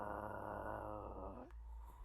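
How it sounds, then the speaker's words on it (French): A wolf growls close by, a low continuous rumbling snarl that holds steady for over a second before cutting off, leaving faint background. "Le loup grogne."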